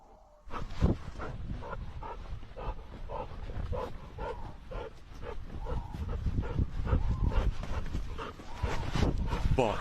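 A dog in the woods pants, yips and whimpers in quick bursts, close and fairly loud, with some rustling and faint human voices around it.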